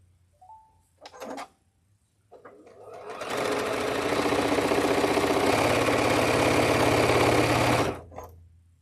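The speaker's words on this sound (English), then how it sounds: "Can anybody hear the beep, the sewing machine beep at me?" A home sewing machine runs in a long steady stretch of mechanical whirring and stitching, preceded by a short tonal beep and a few brief bursts; a voice is faintly present early on.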